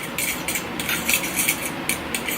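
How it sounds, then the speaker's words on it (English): A fork stirs dry ingredients for cookie dough in a bowl, making a continuous scraping, clinking rhythm of metal against the bowl, fairly close and with no talking. "then you're just going to mix up all your dry ingredients with a fork."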